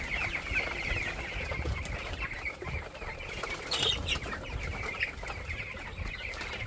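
Farm chickens cluck continuously and close by, a busy overlapping chorus of hens with short louder calls rising above a steady background.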